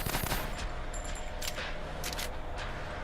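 Rapid automatic gunfire from Hibernation: Gynophobia as spiders are shot, a dense steady burst of shots throughout.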